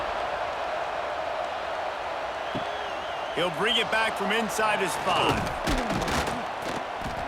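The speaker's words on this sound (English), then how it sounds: "this crowd is buzzing after that last score" Stadium crowd buzzing steadily in the EA College Football 26 video game at a California vs Virginia Tech matchup, a dense broad roar running under a commentator's voice throughout.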